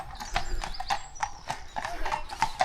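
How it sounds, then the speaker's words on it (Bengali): Two horses being ridden along a village road in the Cotswolds, hooves clip-clopping in a quick, steady rhythm close by, with voices in the background. "দুজন ঘোড়ায় চড়ে আসছে।"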